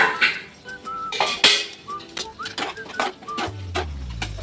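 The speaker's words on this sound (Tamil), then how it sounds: "கருவேப்பிலையை போட்டு கொஞ்சம் வதக்கி விட்டு" Curry leaves sautéed in a pan for mutton gravy bring sharp metal clinks and scraping of utensils against the pan, ending in a rising hum.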